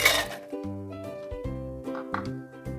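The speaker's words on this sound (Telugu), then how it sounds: "ముందుగా మనము ఐస్ ముక్కలను వేసేసుకుందాము" Ice cubes clink and rattle into a glass container in a few quick bursts, a louder clatter first, over soft background music.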